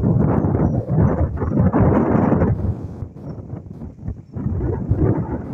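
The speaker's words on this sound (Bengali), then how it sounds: "প্রচন্ড বাতাস," Strong gusting wind buffets the microphone in loud, rumbling surges that rise and ease over several seconds, with no voices.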